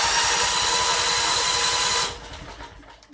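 A Predator 61725 11,000/13,500 watt generator running in a cold shop after being started on choke, giving a loud, steady mechanical roar that cuts off abruptly partway through and leaves quieter background noise.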